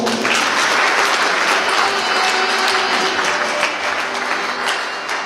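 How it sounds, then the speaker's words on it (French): An audience at a launch event applauds again for the president, steady dense clapping throughout, loud and close with no voices over it. "je demande d'applaudir encore une fois"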